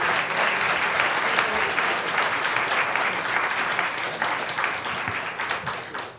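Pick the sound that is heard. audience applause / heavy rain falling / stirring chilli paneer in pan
audience applause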